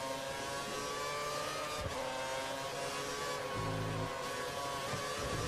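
Racing car engine in the F1 2013 video game, a loud continuous high-pitched whine that rises and dips through gear changes while cornering, steady throughout with no talking.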